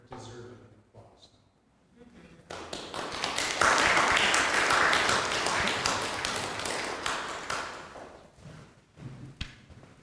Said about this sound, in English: Lester deserved an applause.